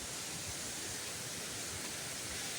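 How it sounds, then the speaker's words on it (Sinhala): The lower fall of Boburuella waterfall in Sri Lanka roars as a strong current of water pours over rocks, a steady, loud, close rush that continues without a break. "මෙතන තමයි ඉතින් පහළ දියැල්ල තින්නේ"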